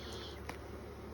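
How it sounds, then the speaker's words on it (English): Honeybees working one side of a hive during an inspection make a faint, steady hum close by, with one brief buzz rising above it midway. "quite a bit of bees on that side working it"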